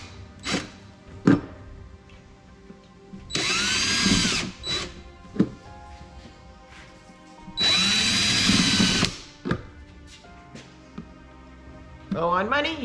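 A power drill bores drainage holes in a plastic ice cream bucket, whining in two loud sustained bursts with clattering handling between them while a person talks.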